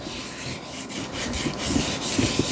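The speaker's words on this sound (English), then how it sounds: "I'm gonna go ahead and sand these out" Chrome motorcycle handlebars being sanded by hand, giving a steady, close abrasive rubbing with rhythmic scratchy strokes, alone and without voices.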